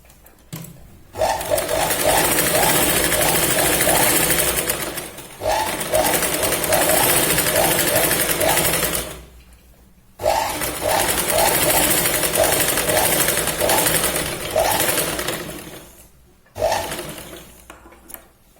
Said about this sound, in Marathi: परत इथे आपण 2 वेळा शिलाई लावून घेऊया व्यवस्थित